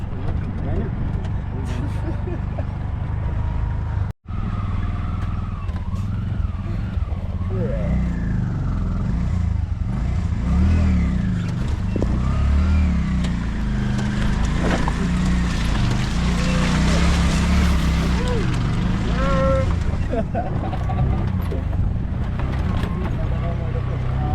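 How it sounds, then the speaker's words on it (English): A tuk-tuk carrying six people drives on rough Himalayan mountain roads in Nepal. Its engine rumbles and drones continuously, with shifting revs, and people talk over the noise throughout. "I think 6 man in a tuk-tuk on these roads."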